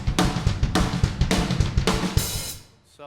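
A punk-style drum beat, with a driving bass drum under fast cymbal crashes and snare hits, a loud, dense steady rhythm that stops and decays away near the end, with no voices.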